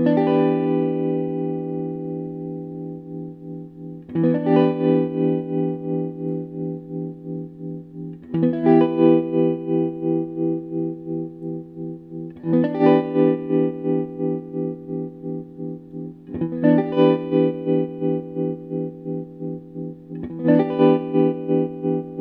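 An electric guitar played through a handmade Rainbow tremolo pedal rings out in sustained chords struck every few seconds, each swelling and pulsing in rapid, even volume throbs as it decays, loud and close with no voices.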